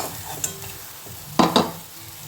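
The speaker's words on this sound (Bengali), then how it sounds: "বড়াগুলোকে লাল লাল করে ভেজে নেব" Banana blossom fritters fry in hot oil with a soft sizzle, and two brief bursts of stirring or turning clatter in the pan cut through near the end.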